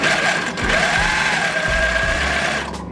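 A sewing machine runs steadily, stitching ruffles by zigzagging over fishing line for tutu fabric, its motor whirring loud and close with a constant hum and a few shifts in pace.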